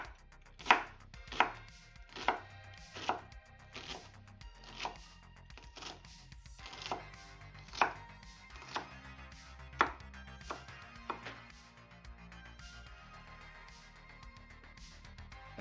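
Onions being chopped on a board, about a dozen crisp knife strikes at a fairly even, unhurried rhythm, close and clear with quiet gaps between cuts.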